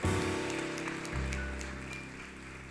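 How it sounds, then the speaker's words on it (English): Audience applause at the Global and Regional Holcim Awards 2021 ceremony, a broad steady wash of clapping from a large crowd under low background music, continuing as winners walk on stage. "Exactly, keep clapping."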